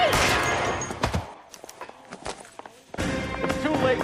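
Gunfire in the video game L.A. Noire, a loud burst of several rapid shots followed by scattered sharper cracks after a brief quieter gap, with a voice heard amid the action.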